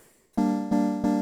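A low, voice-like synthesizer vox patch played an octave down sounds after a brief silence and is struck three times in a row, rich and sustained, with no talking.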